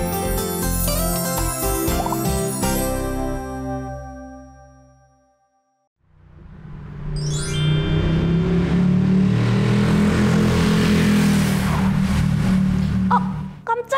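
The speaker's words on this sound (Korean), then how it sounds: "갑자기 웬 오토바이가 저렇게 시끄럽게 지나간대?" A loud motor vehicle engine roars and revs close by for several seconds, following a brief lull after a stretch of music.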